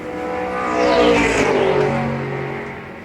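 A Porsche 911 GT3 race car roars past down the main straight at Phillip Island circuit, revving high and swelling loud as it nears, then its pitch drops and fades as it speeds away.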